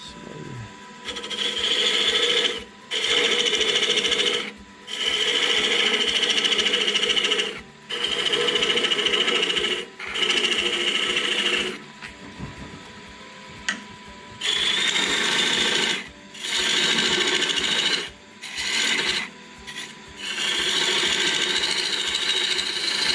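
Wood lathe turning a wooden sphere while a tool parts it off, a steady whirring scrape broken by repeated short pauses as the cut stops and restarts, close and fairly loud with no talk.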